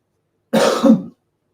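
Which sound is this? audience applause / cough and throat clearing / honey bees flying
cough and throat clearing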